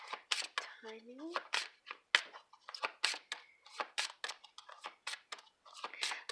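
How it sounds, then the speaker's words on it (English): A deck of angel answer cards is riffled and shuffled by hand at close range, a series of quick papery flicks and snaps in uneven bursts, with a brief voiced sound early on. "I'm just shuffling this for you so you can see that I'm not making things up"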